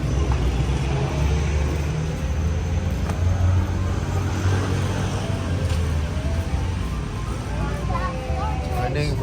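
Tricycles and other traffic rumble at a church unloading area in Agoo, La Union, a constant close engine drone with passing vehicles, under a voice speaking over it.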